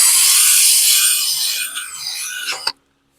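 Abrasive pad rasps quickly over the rusty metal of an old utility trailer before priming, a steady scratchy scrubbing that fades and ends abruptly in silence.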